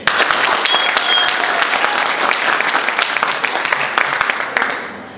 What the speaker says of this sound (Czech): Potlesk pro Zu, teď.